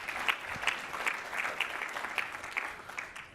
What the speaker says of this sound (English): He hasn't had a round of applause yet.